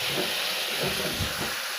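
Ginger, green chilli and garlic paste fries in a pan for an aloo gosht dish, making a loud, steady sizzling hiss up close throughout.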